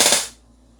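A gun set to full auto fires one short burst of about four rapid shots, loud and close, with the sound cutting off abruptly into quiet.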